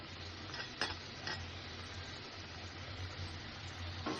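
Dried loitta fish shutki with chopped coriander being stirred and fried in a pan, a steady low sizzle with a couple of sharp spoon scrapes against the pan, no talk.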